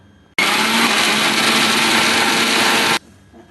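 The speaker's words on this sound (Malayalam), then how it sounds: "ഇതിങ്ങനെ ഒരു കഷ്ണാക്കി മിക്സിയിൽ ഒരു ജാറിലേക്ക് ഇട്ട് പൊടിച്ചെടുക്കാം." Electric mixer grinder jar grinding bread pieces into crumbs in a kitchen: one steady, loud whirring roar of about two and a half seconds that starts and stops abruptly, with quiet before and after.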